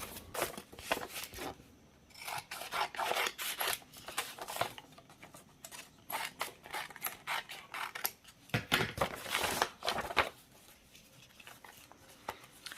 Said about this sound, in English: where the seam is here, I'm going to cut that down just a little bit